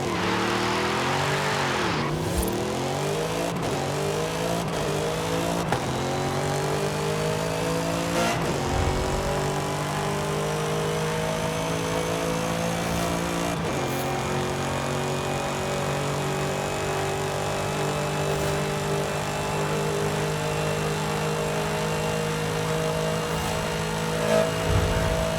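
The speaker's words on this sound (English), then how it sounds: "the car engine noises in Forza Horizon 3 or 4 were one of the weakest aspects of the game, and now they are excellent" A race car engine, the M3 GTR in the Forza Horizon 5 racing game, revs hard and shifts through repeated gear changes, rising and dropping pitch loudly and steadily with brief tire squeals.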